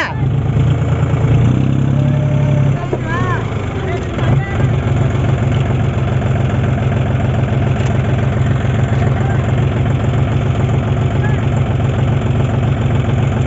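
A heavy diesel JCB excavator engine idles and rumbles steadily throughout, loud and close, with voices talking over it.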